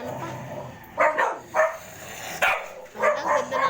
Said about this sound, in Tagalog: Naglalaban na po dito ang dalawang aso.